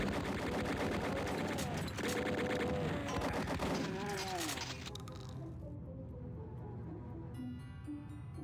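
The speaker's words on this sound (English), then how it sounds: "that's making, like, the shotgun sound" Shotgun blasts and gunfire from a Doom WAD video game crack in a dense burst of repeated shots with game effects, then fade into quieter chirps, under a faint voice.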